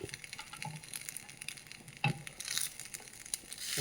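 Vegetables sauté in a little coconut oil in a home kitchen pan, giving a quiet, steady sizzle and crackle with a sharp utensil clatter midway and a brief stronger hiss afterward.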